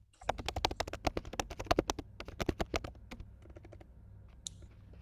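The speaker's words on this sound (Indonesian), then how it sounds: "Saya nggak bisa ngetik secepat itu." Fast typing on a computer keyboard: a rapid, uneven burst of crisp close key clicks that thins out toward the end.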